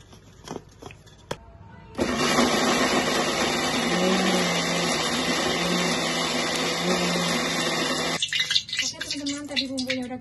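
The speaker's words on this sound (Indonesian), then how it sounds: "Kita haluskan semuanya pakai blender." After a few knocks, an electric blender roars to life grinding spices steadily for about six seconds, then stops; clattering and handling sounds follow.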